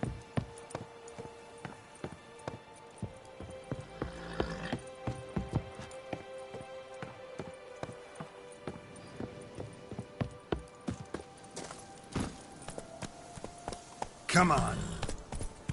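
Hooves of a draft horse clop irregularly on a hard surface, with people talking and calling out over the steps.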